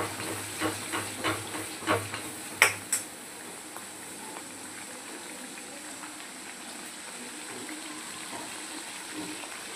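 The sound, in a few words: ingredients frying in oil for mutton curry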